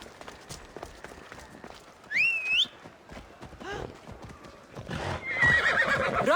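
A horse in Assassin's Creed Odyssey neighs loudly and gallops with steady clip-clop hoofbeats, a sharp whinny standing out partway through over faint ambient game sounds.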